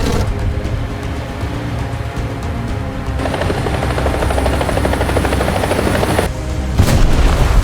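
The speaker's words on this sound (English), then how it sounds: "Only one scout drone is all it took to ram into the blades and bring the helicopter down" A helicopter in the War Thunder video game is brought down when a kamikaze scout drone rams its blades, a loud continuous rotor chop and engine drone with a sharp shift near the end, with no voices.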